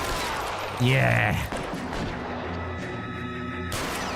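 Gunfire in the LA Noire video game, a loud burst of shots over rumbling game sound, with someone speaking briefly.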